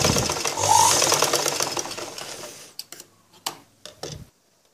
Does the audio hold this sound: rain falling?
no